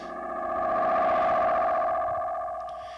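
Binson EM6 mixer with its built-in T7E analog delay module produces a sustained, swelling echo tone, layered repeats blending into a dense, wavering drone that rises and fades smoothly over a few seconds.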